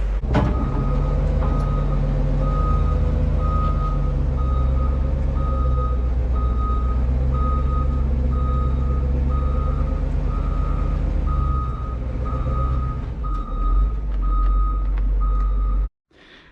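A truck's reversing alarm beeps steadily in a long regular series over a loud, constant diesel engine rumble while being backed up, near a 1965 Dodge Power Wagon, then cuts off abruptly.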